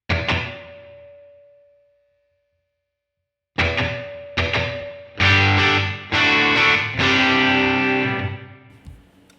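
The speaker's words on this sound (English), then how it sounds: "I like it a lot warmer than that for a room reverb." Distorted electric guitar chords ring out through a Line 6 HX Stomp Double Tank room reverb, leaving a roomy tail: one strum decays into silence, then a series of loud strummed chords follows.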